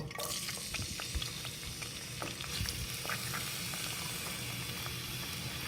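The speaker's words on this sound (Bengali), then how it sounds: "এখন পেঁয়াজটা আমি ভেজে নেব তেলের মধ্যে।" Sliced onions frying in half a cup of oil in a kadai, a steady close sizzle with scattered crackles and light stirring clicks throughout, no voices.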